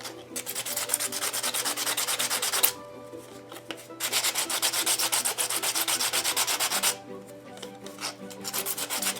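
Plastic on a handmade dragon egg craft being sanded down: a continuous, close, gritty rasping in long passes, broken by two short pauses.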